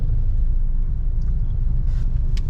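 Steady low rumble of road traffic outside a hypermarket in Clark, Angeles, with engines and passing cars blending into a continuous, fairly loud drone and a few faint higher clatters.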